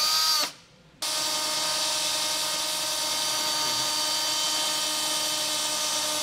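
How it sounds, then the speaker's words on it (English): A power drill whines steadily and loudly at high speed, boring through the metal of a 2018 Genesis G80 to fit a Curt trailer hitch receiver, pausing briefly before biting back in with a continuous grinding drone. "I'll go ahead and get this drilled out"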